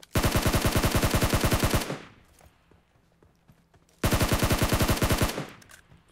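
Video game gunfire: two long bursts of rapid automatic shots, loud and close, separated by a couple of seconds of quiet with faint movement sounds.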